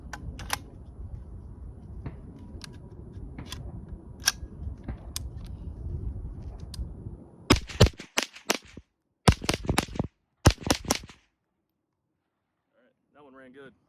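An AR-15 fitted with a CMMG .22 Long Rifle conversion kit fires a quick string of sharp, close cracks in uneven bursts after a stretch of background noise with talking, then falls silent before a faint voice.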